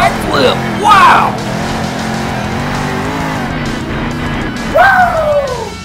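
Soldier Fortune Ice, a monster truck in the Monster Jam Steel Titans video game, roars with a steady engine drone through a double-backflip landing. Brief tire squeals rise over it, and an excited voice talks throughout.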